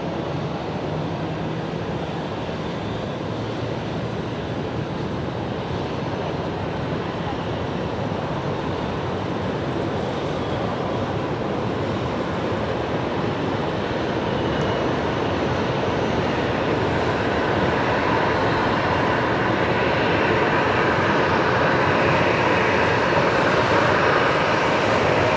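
A jet aircraft at Brisbane Airport rumbles steadily as it taxis, a broad continuous engine roar growing slightly louder over the stretch, heard alone at a distance.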